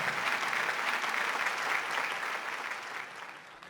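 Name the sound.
loud applause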